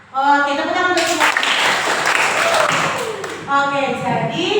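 A classroom of sixth-grade children clapping together in a burst of applause, with the teacher's voice heard before and after the dense clapping.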